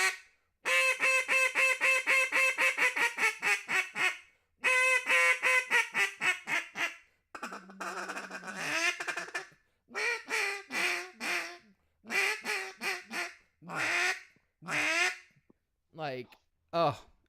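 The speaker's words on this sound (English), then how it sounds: "I'll give it a quack, a hail, and then I'll squeak on a little bit" A Real Calls duck call is blown loud and close: a long run of rapid, evenly spaced quacks forming a hail, a brief honking stretch, then shorter clusters of squeaky, choppy notes separated by pauses.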